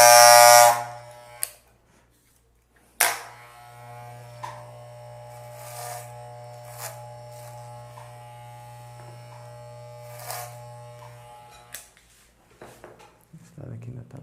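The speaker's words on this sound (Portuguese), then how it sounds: "tudo que está passando aqui eu vou tirar com a minha máquina zero" Electric hair clippers cutting a short military-style haircut, running with a steady low buzz that starts and stops briefly, with faint snipping and rustling in between.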